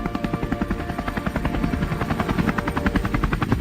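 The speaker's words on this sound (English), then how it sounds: "my team has taken to the skies, hunting boars by helicopter." A helicopter flies close overhead during an aerial wild boar hunt, its rotor beating loudly and rapidly in a steady throbbing pulse that goes on throughout with no voices.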